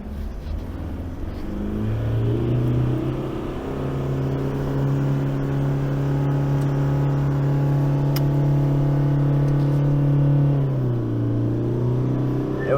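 Ute towing a caravan along a sand track on Fraser Island, its engine droning steadily and close, pitch climbing as it strains in gear, then dropping and rising again near the end, with no voices over it.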